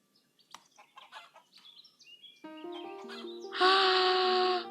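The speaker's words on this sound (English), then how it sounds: "Look at this chicken!" A chicken in the video game Equilinox gives a series of short clucks, then a long, loud crow rising over the final second, close and clear with no talk.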